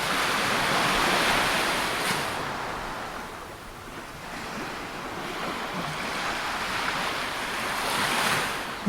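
Waves washing onto the white sand of Bournemouth Beach on England's south coast, a broad roaring surge that swells, eases off and rises again, with some wind buffeting the microphone.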